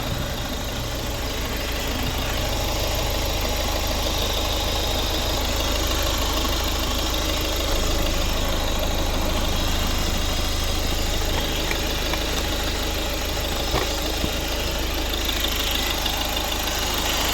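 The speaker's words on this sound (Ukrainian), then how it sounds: "Ось робота двигуна." A 2011 Volvo V50 R-Design 1.6 D2 diesel engine idles steadily and close by, with a constant low rumble and a slight clattering knock throughout.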